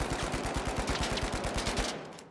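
Rapid automatic fire from an FCAR rifle in The Finals, shot after shot in a steady fast rhythm for about two seconds, loud and close, then cutting off abruptly with no talk over it.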